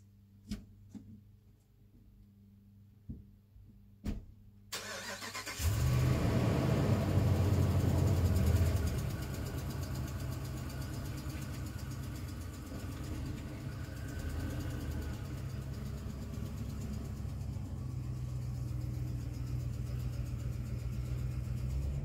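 A vehicle engine turns over after a few faint clicks, then settles into a steady, loud low rumble of idling that continues to the end.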